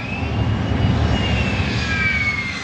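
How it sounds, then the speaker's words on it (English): A jet engine idling on a runway gives a loud, steady roar with a high whine that slowly glides downward in pitch. "airplane jet idle, jet engine on runway"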